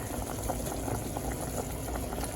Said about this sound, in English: So my chicken is boiling right now.